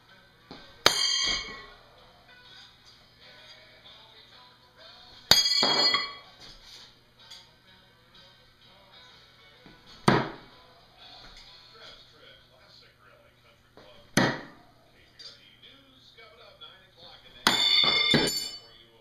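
Beginner throwing knives from a 12-piece set strike a target five times, each a sharp metallic clink or thud spaced about four seconds apart over a quiet background.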